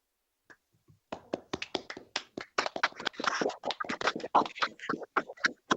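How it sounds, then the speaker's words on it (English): A few scattered participants clap unevenly for a colleague during a virtual advisory committee meeting, with sparse, irregular, fairly faint hand claps after a brief near-silent start. "if we could unmute and just give John a round of applause"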